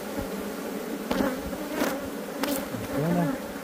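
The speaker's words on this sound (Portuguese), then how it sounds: "Abelha apis mellifera." Honeybees (Apis mellifera) at a hive colony full of honey hum in a steady, close, continuous buzz, with a few individual bees droning past and brief rustling clicks.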